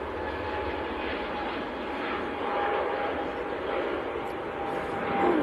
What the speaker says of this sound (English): EasyJet to Antalya in Turkey, just getting airborne